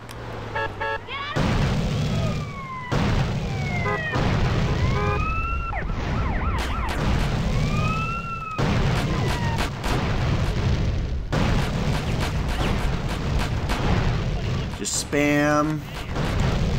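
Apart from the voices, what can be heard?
explosions in the video game Grand Theft Auto: San Andreas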